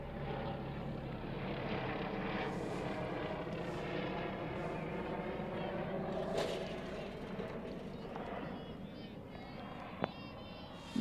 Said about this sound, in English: That noise you're hearing over my head, that's a helicopter.